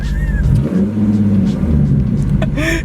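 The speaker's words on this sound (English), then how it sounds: "If he revs right next to me" A car with a very loud exhaust rumbles and revs nearby, a deep steady growl with a sharper rise near the end.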